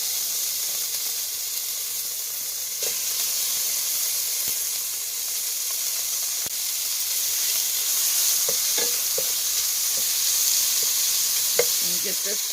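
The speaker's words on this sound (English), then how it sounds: "I'm just going to get my bacon cooking, and I am not going to add any oil to this because there is plenty of oil in the bacon." Bacon sizzles and crackles in a large pot with no added oil, a steady bright hiss throughout, broken by occasional stirring clicks and pops toward the end.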